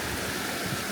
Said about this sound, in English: Spartan Waterfall.